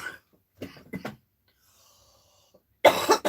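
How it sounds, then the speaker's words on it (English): A few harsh coughs close by, split into short bursts with quiet gaps, ending in a louder, raspier fit. "I'm still recovering from that Christmas cough."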